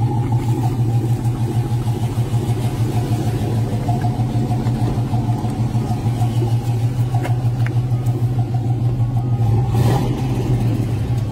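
A Box Chevy car's engine runs hard near the microphone, a loud steady throbbing rumble with a pulsing exhaust note held throughout, rising slightly in a brief rev near the end.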